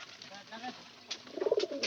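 A stray pigeon that arrived unexpectedly gives a soft, low coo near the end, faint and close, over light background murmur and rustling.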